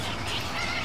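Newly hatched baby birds calling, a faint, steady wash of chirps close by, with a brief brighter peep in the middle and no talk.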